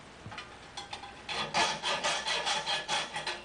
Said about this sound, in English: I'm going to take a hacksaw and make 4 straight triangular cuts into the piece